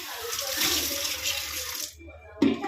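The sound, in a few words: water running from a tap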